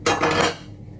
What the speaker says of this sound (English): let's stir the smaller one first